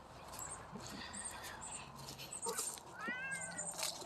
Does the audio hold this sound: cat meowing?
yes